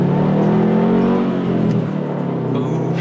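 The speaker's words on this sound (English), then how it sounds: "Today we are driving my 2012 Subaru WRX Premium." A 2012 Subaru WRX Premium pulls hard under acceleration, its engine droning loud and close in a steady, rising roar for the full three seconds.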